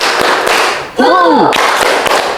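Classroom of students clapping a counted rhythm during a lesson, sharp claps in a steady pattern with a voice calling out between them and a brief sung or chanted tone in the middle.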